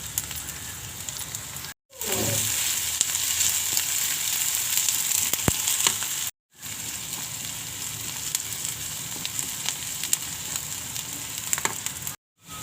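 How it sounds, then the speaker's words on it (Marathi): Garlic, onion and chilli fry in oil in a pan while okra bhaji is being cooked, producing a loud, continuous crackling sizzle heard close up, with brief cuts and a few stirring knocks. "कांदा चांगला भाजत आला आहे."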